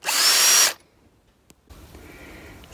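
Cordless drill running in a short, loud burst of high whine that stops sharply, followed by quiet, a single click and faint background noise.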